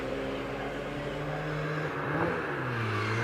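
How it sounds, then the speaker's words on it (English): A Mini Cooper rally car pulls away from the start line of a hillclimb, its engine note rising and shifting pitch as it accelerates under a steady loud drone. "John McQuillan in the Mini Cooper, car 59, just leaving the line now"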